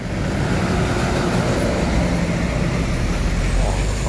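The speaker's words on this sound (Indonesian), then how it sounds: "Ada truk oleng." A truck on an Indonesian road rolls past close by, its steady engine drone and tyre rumble mixed with continuous broadband traffic noise for a few seconds, no voices.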